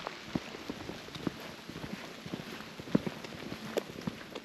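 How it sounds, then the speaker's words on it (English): Rain falling on a forest hiking trail among redwoods, a steady soft patter with scattered nearby drops tapping on surfaces, fairly quiet throughout. "Rain's coming down."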